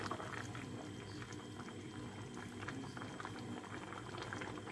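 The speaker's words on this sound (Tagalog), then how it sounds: "kumukulo na siya" Squash simmering in coconut milk in a pot, a steady soft bubbling boil that carries on without a break, faint and close, with no talking.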